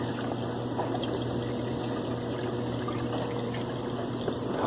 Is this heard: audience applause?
no